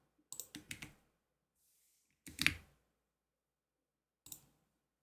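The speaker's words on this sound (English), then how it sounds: "that typing is making me fall asleep" Computer keyboard typing in three short, separate bursts of quick keystroke clicks with quiet gaps between, close and fairly soft, with no talk.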